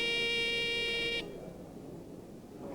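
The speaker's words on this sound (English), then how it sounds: "they call my attention by ringing the bells in front of them" Quiz contestant's bell being tested at a school science and maths contest: a bright, harmonically rich electronic buzz held for just over a second, then cut off, leaving faint room noise.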